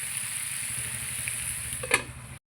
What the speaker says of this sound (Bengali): এবার ভালো করে আমি ভেজে নেবো আলু পটলটাকে।